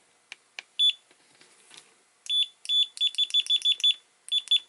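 Continuity test beeps from a FNIRSI DMC-100 clamp meter: a few short single beeps, then a rapid run of repeated high-pitched beeps, close and clear with no talk.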